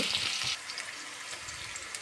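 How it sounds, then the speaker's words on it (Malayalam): Onion frying in hot coconut oil with mustard seeds, a steady close crackling sizzle with a brighter burst of spitting in the first half-second, then a calmer continuous fry. "ഇപ്പോൾ വെളിച്ചെണ്ണ ഒഴിച്ച് കടുക് പൊട്ടിച്ച് സബോള ഇട്ടു"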